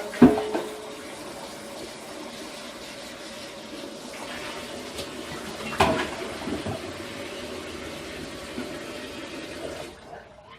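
Cold tap water runs from a kitchen faucet over cooked ramen noodles and an egg in a strainer, a steady close splashing stream with a couple of clunks before it shuts off.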